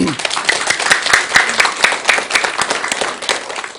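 A seated audience at a Buddhist dharma talk by a monk breaks into steady, dense applause of many hands clapping, with a faint voice briefly audible at the start.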